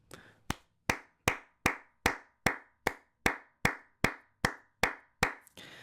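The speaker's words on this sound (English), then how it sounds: "I just have to clap it up for the players." A lone person claps hands in slow, even, sharp claps, about a dozen close and loud strokes with short ringing decay between them, in an otherwise quiet room.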